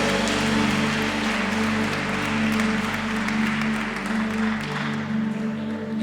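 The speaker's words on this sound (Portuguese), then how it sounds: "aplauda ao Senhor" Sustained applause from a church congregation at a Sunday evening celebration service, a steady, dense wash of clapping with a low hum beneath, continuing for several seconds without speech.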